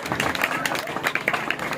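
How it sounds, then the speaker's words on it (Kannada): Loud applause from an audience, dense clapping throughout a short burst with crowd noise mixed in. "ಜೋರಾದ ಚಪ್ಪಾಳೆ ಬಂದವಳಿ"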